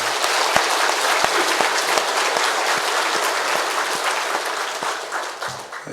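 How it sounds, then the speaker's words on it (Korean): A church congregation claps together in a loud, sustained burst of applause that fills the sanctuary and slowly thins toward the end. "우리 한 번 더 하나님께 영광의 박수 합니다."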